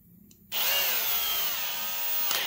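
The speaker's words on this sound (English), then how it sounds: "we're going to take the drill, and hopefully it plays well today." Power drill boring a hole into the cylinder of a Husqvarna 55 Rancher chainsaw to add a decompression valve: a short quiet lead-in, then a loud, steady, close whine that holds continuously to the end.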